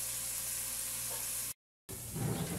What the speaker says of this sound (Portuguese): Aí nós já estamos aqui dourando o alho